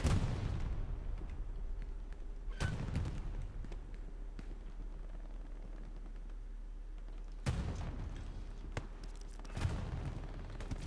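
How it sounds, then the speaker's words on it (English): Rockets striking in a video game battle, a few sharp heavy impacts spaced several seconds apart over a low rumbling background, fairly distant and faint. "More rockets coming in from Ted."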